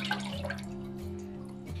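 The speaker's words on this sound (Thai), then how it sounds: "ใส่กะทิลงไปนะคะ1ถ้วยค่ะ" One cup of coconut milk is poured into a pot for a sweet dumpling sauce, giving a faint, soft trickle and drip of liquid over a low steady hum.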